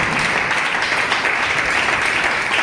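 A church congregation applauding in praise during a French-language sermon, a dense, steady wash of clapping that stays loud and even throughout without a break.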